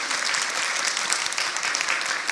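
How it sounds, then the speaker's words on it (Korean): A church congregation at a Sunday Christmas Eve service claps to welcome new members, dense even applause filling the room for a couple of seconds with no voices. "우리 박수로 환영하도록 하겠습니다"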